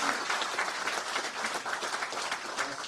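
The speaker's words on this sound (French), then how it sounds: "ça mérite beaucoup plus d'applaudissements" Dense applause fills a football association general assembly in Mbankomo, Cameroon, steady and near for about three seconds with no talk over it.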